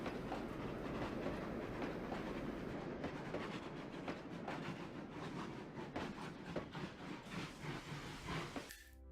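Train running on track in the Trainz railway simulator game, a steady rolling rumble with rhythmic clickety-clack wheel beats and faint hiss, continuous and fairly loud throughout, with no talking.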